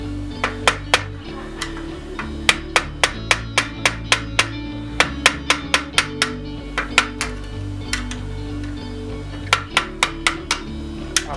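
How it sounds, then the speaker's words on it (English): Sharp metallic taps ring out one after another, a hammer striking a flathead screwdriver in quick bursts with short pauses to pop off a Volvo 240 seat part, close and crisp over a low hum. "we can just pop that off with a flathead screwdriver and a hammer"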